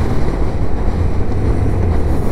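Motorcycle engines roar on a group ride of about 100 bikes, a loud, continuous low rumble mixed with heavy wind buffeting throughout.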